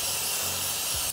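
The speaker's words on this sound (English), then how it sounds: "I'm gonna spray it and it's nice and clean for the new foam to go on it" A close, continuous hiss of cleaner sprayed onto the oil filter screen of a 2004 KTM 525EXC motorcycle, one steady burst that cuts off abruptly.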